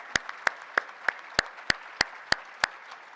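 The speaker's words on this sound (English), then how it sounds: "Let's give all of them a round of applause." At a soccer Hall of Fame induction ceremony, about ten evenly spaced, crisp single claps ring out close by over a quiet room, a sparse, steady rhythm rather than a full crowd ovation.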